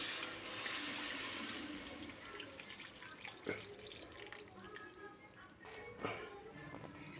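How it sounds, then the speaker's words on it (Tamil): Dissolved tamarind water is poured into a village-style dried fish curry as it cooks, giving a steady liquid splashing and trickling sound broken by a couple of brief knocks. "கரைச்சி வச்ச புளித்தண்ணி"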